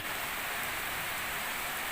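Steady rain falling on a surface outdoors, a dense even hiss that stays constant throughout with no voices.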